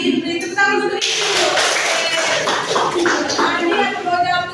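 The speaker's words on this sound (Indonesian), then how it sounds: "tepuk tangan untuk Indri." Kindergarten children and audience clapping at a health talk about drinking water, a burst of applause starting after a moment of speech and continuing steadily, with voices around it.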